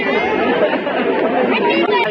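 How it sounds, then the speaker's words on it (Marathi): A dense crowd chattering steadily in a busy shopping market, Sarojini Market in Delhi, with many overlapping voices close by and no break across the short span. "इकडं पण तेवढीच गर्दी"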